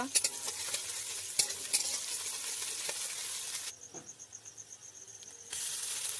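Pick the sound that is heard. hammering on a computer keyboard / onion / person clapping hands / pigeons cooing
onion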